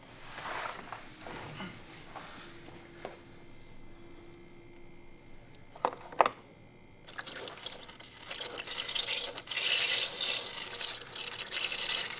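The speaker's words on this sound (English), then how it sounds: "So let's go ahead, drain the oil, and see what it looks like." Engine oil drains from a BMW in a faint, steady liquid trickle that grows into a fuller, louder pour partway through, with a couple of sharp knocks in between.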